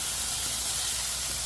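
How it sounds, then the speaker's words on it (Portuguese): Steak frying in a pan in a home kitchen, a steady, even sizzle and hiss close by, constant throughout with no talk. "Ali tá meu bife, ó, já fritando também."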